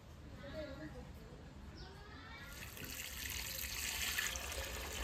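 Water runs from a tap while fish are washed for cooking, a soft steady splashing that grows louder toward the end, faint and close, with a voice speaking over it.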